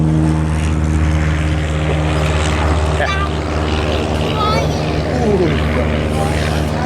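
A P-51 Mustang World War II fighter takes off at Palomar Airport, its propeller engine droning loud and steady with a strong harmonic hum throughout while people talk nearby.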